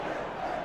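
A stadium crowd in a football video game reacts with a dense, continuous roar of many voices, loud and close throughout the short moment.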